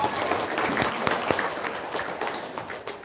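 An audience at an Indonesian spiritual-teaching gathering claps for about three seconds, a dense, steady patter of many hands that fades slightly at the end.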